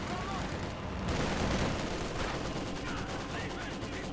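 Bursts of machine gun fire and flamethrower blasts in a Company of Heroes 2 World War II battle, dense rattling volleys. A commentator talks over the combat throughout.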